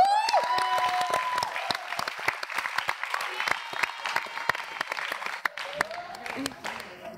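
A studio audience at an Indonesian TV show breaks into loud, sustained applause, dense clapping that carries on throughout while voices talk underneath.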